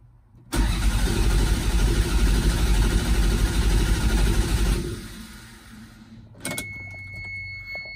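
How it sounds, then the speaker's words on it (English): A 1991 Toyota MR2 engine catches abruptly, then runs loudly and steadily at close range for several seconds before dropping off, with a brief clunk and quieter sounds afterward. "we're in neutral, clutch in, stuff's on, see if it cranks."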